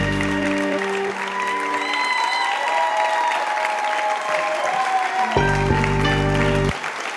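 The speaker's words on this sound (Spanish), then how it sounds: "denle un aplauso a ese ministerio y al Señor por el don que ha puesto en estos jóvenes." An audience at a church concert applauds steadily, with a sustained musical tone underneath at the start and again near the end.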